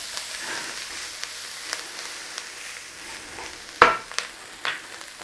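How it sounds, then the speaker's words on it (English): Onion and beef fry in a pan with a soft continuous sizzle, broken by scattered stirring scrapes and one sharper clatter near the end; no voices. "Love onion and beef cooking."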